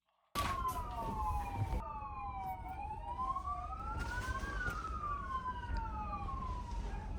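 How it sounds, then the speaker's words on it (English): Police sirens wail loudly, several overlapping tones sweeping up and down together after a sudden start, with traffic rumble underneath. "But over the panic in my head from the sirens"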